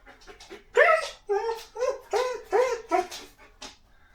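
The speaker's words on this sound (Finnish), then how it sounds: "Koirallakin on ikävä vinkuu niin hirveänä täällä huoneessa." A grieving dog whines and whimpers indoors in a home room beside an empty hospital bed, a string of high, wavering cries rising and falling close by, fairly loud and alone.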